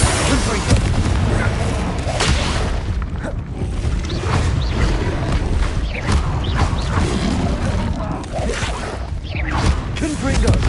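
Repeated Confringo fire spell blasts in Hogwarts Legacy on PS5, booming bursts over a dense, continuous battle din with creaks and mechanical clatter, loud throughout.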